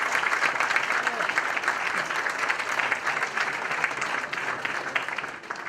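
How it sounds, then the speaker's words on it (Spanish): An audience applauds a visiting doctor before his talk, giving steady, even clapping that holds for several seconds and tapers slightly at the end, with faint voices underneath. "Le damos un aplauso al doctor."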